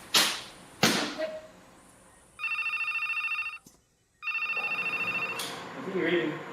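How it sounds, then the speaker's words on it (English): Telephone ringing in a hospital setting: two electronic trilling ring bursts, each about a second long, separated by a brief silence, preceded by a couple of sharp thumps at the start. "Dr. Tony, you have a phone call here"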